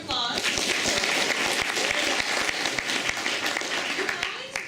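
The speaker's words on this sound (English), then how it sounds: "Give yourselves a round of applause" Audience applause fills a New York Comic Con 2013 fan panel room, a dense steady wash of many hands clapping with crowd noise, holding loud for several seconds before thinning slightly at the end.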